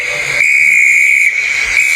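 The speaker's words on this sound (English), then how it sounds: "The conductor blew his whistle till he had no more breath" A conductor's train whistle blown long and shrill, one sustained piercing tone lasting the whole two seconds, loud and close with nothing else heard.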